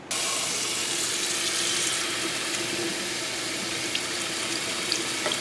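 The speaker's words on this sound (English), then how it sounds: "take them over to the sink and start running cold water" Cold tap water runs steadily into a sink, a constant close hiss and splash that starts abruptly and continues without talk.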